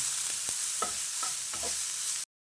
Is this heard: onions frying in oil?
yes